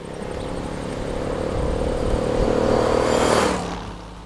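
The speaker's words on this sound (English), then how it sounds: "enjoying that rock and roll beat of a Moto Guzzi V-twin" A Moto Guzzi V7 Stone V-twin motorcycle running on the road, a steady loud engine drone with wind rush that swells and then passes, no voices.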